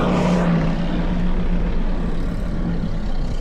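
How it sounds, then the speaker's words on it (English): A snowblower engine runs steadily and loudly while a walkway is cleared during Super Bowl Sunday snow plowing, a constant droning roar with no breaks. "That snowblower is a lifesaver."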